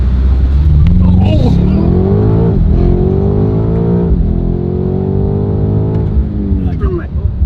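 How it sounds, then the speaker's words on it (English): A loud tuned car launches and accelerates hard, its engine note climbing repeatedly through the gears in rising sweeps, close by, with people talking over it. "right now we're gonna launch it to see what the, so you see how like the blue kicks in?"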